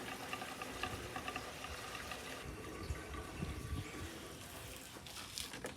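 Gasoline pours steadily from a five-gallon can into the new fuel tank of a restored Ford F100 pickup, a continuous close liquid gush and gurgle lasting throughout with no voices.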